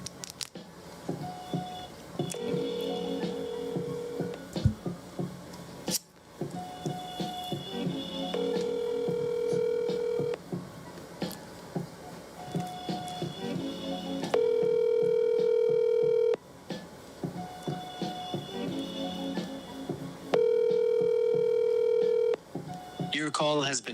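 Telephone call audio with tones and repeated ringback pulses at regular intervals, heard through a phone line over background chatter and talk, before a voicemail greeting.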